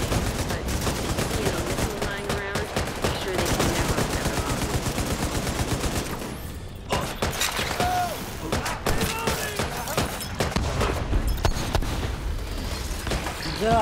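Rapid bursts of machine gun fire crackle almost continuously, with booms and mechanical clatter mixed in, loud and dense throughout.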